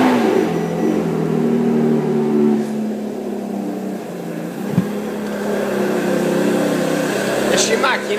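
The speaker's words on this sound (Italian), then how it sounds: "E allora famolo partire sto motore." A car engine, linked to a Ferrari, runs and revs steadily at close range with a sharp blip near the middle, while a person talks over it.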